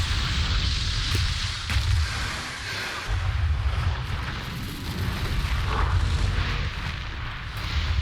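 Ice explosion spell in Middle-earth: Shadow of War, a sustained rumbling roar of blasts with a few sharper bursts, continuous and loud throughout, no voices.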